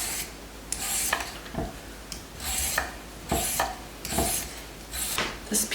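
Potatoes are being peeled with a vegetable peeler at close range, with quiet, repeated rasping strokes in an uneven rhythm and occasional soft knocks in between.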